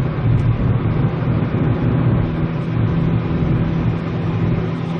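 Chevrolet Spark LT small car engine held under steady acceleration, a loud continuous drone with a low rumbling hum that stays even throughout, heard from inside with no talking.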